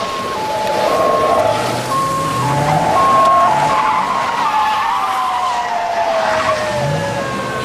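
A speeding car losing control on a curvy street, its tires squealing in a long, loud, continuous skid that wavers in pitch for several seconds, close and dominant.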